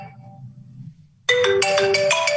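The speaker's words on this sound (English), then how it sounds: "Their phone is ringing." A phone ringtone breaks in during an online meeting, starting suddenly after low murmuring and then repeating in bright, loud electronic chimes.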